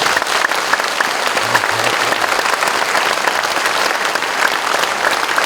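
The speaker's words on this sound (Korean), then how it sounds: "두 네 분께 우리 한번 박수 한번 드리겠습니다." A church congregation claps loudly for honored pastors and their wives at a dedication and retirement thanksgiving service, continuous full applause with a faint crowd murmur underneath.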